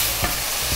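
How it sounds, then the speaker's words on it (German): Chicken sears hard in a hot pan with a loud, steady sizzle and a few brief stirring scrapes, with no voices over it. "Rein mit dem Hähnchen. Das braten wir jetzt ganz kurz, ganz kräftig an"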